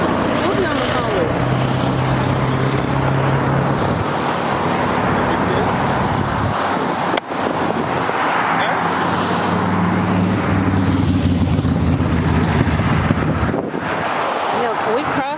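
Cars passing along a busy street in Kingston, Jamaica, a steady broad roadway rumble with engines swelling and fading close by, wind buffeting the microphone, and people talking nearby over the traffic.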